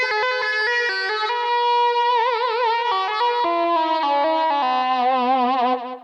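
A Roland Fantom digital synthesizer lead voiced to mimic an electric guitar plays a continuous melodic line with bends and vibrato, distorted and chorus-tinged, loud and alone with no talking.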